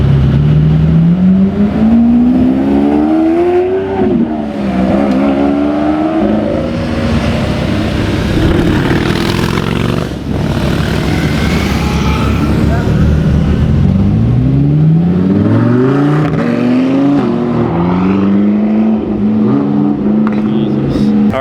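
Lamborghini Huracan Performante revving and pulling away, loud rising and falling engine notes sweeping up through gears, close by, with crowd noise and voices around it.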